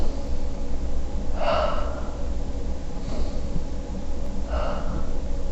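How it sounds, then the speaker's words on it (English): A person takes deep, audible breaths, two strong inhalations and a fainter one between, close to the microphone with no speech. "Breathe in."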